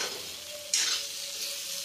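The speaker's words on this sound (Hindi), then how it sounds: "ही चलाते हुए लगभग 5 मिनट तक भूनेंगे।" Bitter gourd (karela) stir-frying in a pan with amchur powder, a steady hiss of sizzling oil with stirring scrapes, swelling louder partway through and continuing alone without talk.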